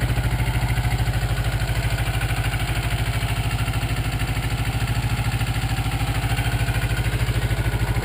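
A 1984 Yamaha Maxim 400 motorcycle idles steadily and close by, its engine putting out an even, rapid pulsing thrum that holds constant throughout.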